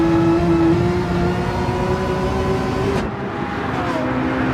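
The black Race Asylum Porsche race car in a racing game at Spa, its engine droning loudly and steadily at high revs, then dropping in pitch as it lifts or shifts near the end.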